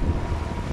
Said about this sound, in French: Il y a beaucoup de vent, je ne sais pas si vous allez nous entendre